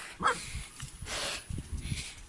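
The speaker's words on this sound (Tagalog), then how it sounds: "Nadini pala yung aso" A dog gives a short bark or yip early on, then quieter rustling and shuffling noises follow at close range.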